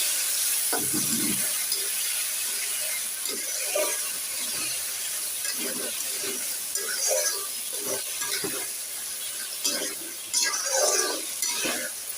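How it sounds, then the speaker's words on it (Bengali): Thick-cut potatoes for aloo bhaji fry in a pan with a constant sizzle, broken by repeated scraping stir strokes of a spatula against the metal, close and prominent. "এটা হচ্ছে মোটা করে আলু ভাজি"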